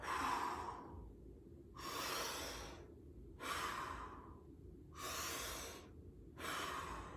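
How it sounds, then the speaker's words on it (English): Wim Hof style breathing through the mouth, with four or five loud, airy inhale-exhale cycles in a steady rhythm, each breath a broad rushing whoosh close to the microphone and separated by brief quiet gaps. "we switch to Wim Hof breathing, which takes the first part of the nose breathing out of the equation, and it's just mouth inhale, mouth exhale"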